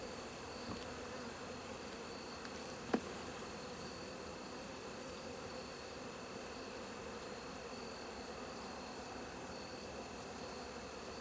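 Honey bees buzz in an opened beehive during a fall honey harvest, a faint continuous drone that stays steady throughout, broken once by a single brief tap.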